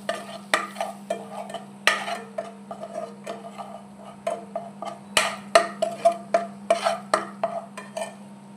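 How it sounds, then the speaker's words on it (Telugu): A spoon stirring chili powder into melted butter in a pan, loud rhythmic scraping and tapping strokes repeating roughly twice a second over a faint steady hum, close up with no speech. "1 టేబుల్ స్పూన్ కారప్పొడి వేసేసుకొని ఇది మంచిగా మిక్స్ చేయాలి"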